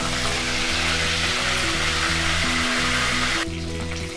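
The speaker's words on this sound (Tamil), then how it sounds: "ஸோ கருவேப்பிலை நம்மளுக்கு நல்லா பொரிஞ்சிடுச்சு." Curry leaves sizzle and crackle in hot oil in a pan, a dense continuous frying hiss that stays loud throughout and eases slightly toward the end, no voices present, while cooking a spicy chicken chukka.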